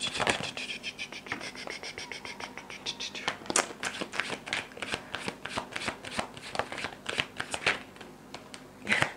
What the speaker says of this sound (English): I'm going to just shuffle out the cards and leave it there.